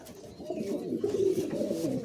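Giribaz pigeons, a newly paired couple, give low throaty coos that swell and roll steadily for a couple of seconds, close and fairly full, with no talk over them.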